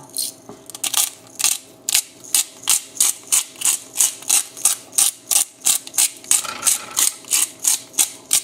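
Hand grinder cranked over a pan during steak cooking, about two dozen evenly spaced ratcheting clicks in a steady rhythm, close and clear with no voices.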